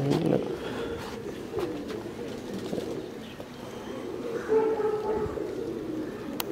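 A racing pigeon being handled gives soft, low cooing over a muffled, noisy background, with a few faint rustles.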